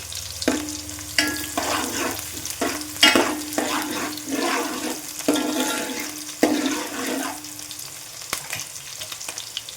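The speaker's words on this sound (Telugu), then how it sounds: "ఈ 2 అయితే మంచిగా వేగిపోతున్నాయి కదండి" Onions and green chilies frying in oil for a gongura chicken curry, a steady sizzle broken by repeated stirring scrapes and clinks at close range, with no talk.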